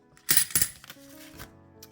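Coins dropping into a savings jar, a couple of sharp metallic clinks close by, followed by faint settling and a soft rattle.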